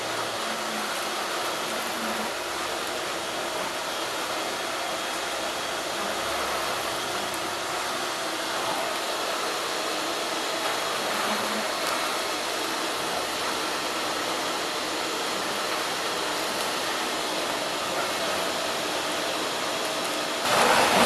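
A vacuum cleaner's sweep nozzle roars in a steady broadband rush as its suction grips a hard floor, loud and continuous throughout, with no talking.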